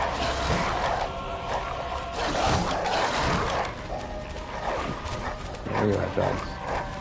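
Dogs growl and bark in the Hypogean Gaol area of the video game Bloodborne, scattered yelps and snarls mixed with game sounds. Someone talks over them.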